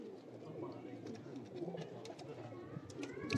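A golden pigeon coos softly, low rounded calls repeating amid faint background chatter and a few sharp clicks, quiet and close, with people talking in the background.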